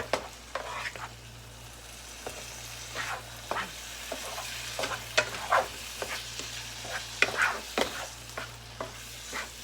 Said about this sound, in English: I'm just trying to mix the seasoning up in there.